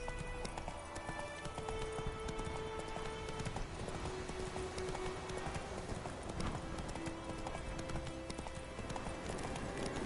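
Hooves of the horse Roach clip-clop steadily through The Witcher 3 game, a continuous close trotting rhythm under a dense bed of background music and ambience, with an occasional faint whinny.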